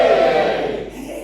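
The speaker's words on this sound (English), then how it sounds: "Give us a cheer if you're married." Comedy club audience at The Cricklade Club cheering and shouting in a dense, loud burst that fades over about a second.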